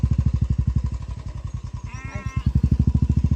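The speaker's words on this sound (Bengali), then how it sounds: "উত্তর দেয় আবার ম্যা করে।" A sheep in a Sundarbans village bleats once in reply to a call, a clear wavering cry heard close by over a steady rhythmic engine-like thumping that runs through the whole moment.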